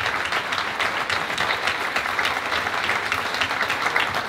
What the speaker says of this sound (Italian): E questo è l'applauso